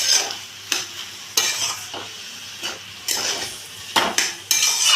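Banana flower stirred with sugar and spices in a pan for a vegetarian mochar ghonto gives repeated scraping, clattering strokes in irregular bursts, close and fairly loud, with no voices.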